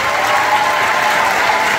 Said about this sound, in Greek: Πιο πολύ χειροκρότημα αυτούς από εμένα.